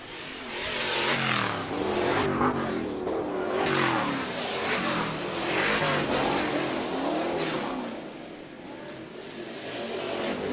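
Racing trucks at a live Sportsman Day event in Minneapolis roar and rev continuously, engines rising and falling in pitch as they pass, loud and dense throughout with no voices.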